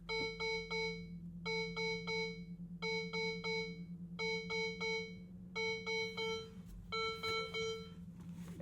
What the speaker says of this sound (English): several very loud chimes later, the SF90 is in accessory mode